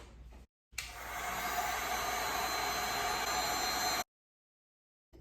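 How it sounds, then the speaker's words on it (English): A heat gun blows hot air onto a tumbler blade, a steady loud hiss that starts abruptly, holds for about three seconds, then cuts off into silence. "you can actually use a little bit of heat from your heat gun to warm up the blade"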